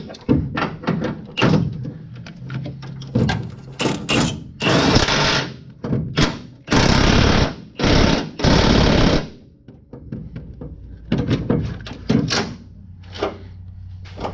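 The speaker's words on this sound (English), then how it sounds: "now that we got the arms in, we'll just tighten this up with the impact" Pneumatic impact wrench fires in repeated loud bursts while tightening the arms of a steering angle kit on a 2015+ Ford Mustang, broken up by clanks and short pauses between runs.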